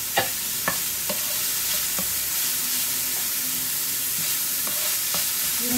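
Gising gising frying in a pan while it is stirred, a continuous sizzle with several distinct spatula knocks and scrapes against the pan, close and clear with no voices.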